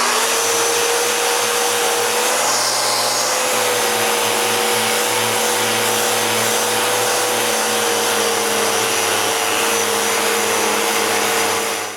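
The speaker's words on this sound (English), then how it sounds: "Now that the glue is dry, I can sand the top of the zigzag glue up." Loud, steady roar of a power sander working the top of a dried zigzag wood glue-up, continuous and close for the whole stretch with no talk.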